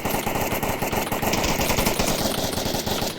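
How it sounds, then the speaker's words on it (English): Rapid bursts of automatic rifle fire from the VR shooter game Onward, dense and continuous, shots rattling close together throughout with no talking. "just pre-firing through those bushes"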